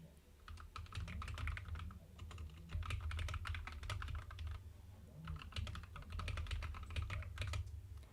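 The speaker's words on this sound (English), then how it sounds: "I'm going to type in chat." Steady, fast typing on a computer keyboard comes in rapid bursts of clicks with brief pauses, close and alone, with no one talking.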